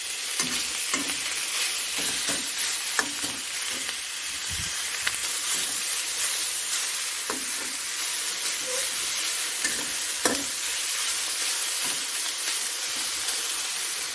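Pork sizzles and hisses loudly in a hot wok, with scattered metallic scrapes and clanks of stirring throughout.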